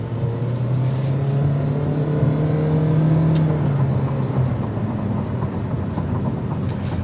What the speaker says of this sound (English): You will hear the engine engaging a little bit more so, especially depending on how you push the gas pedal.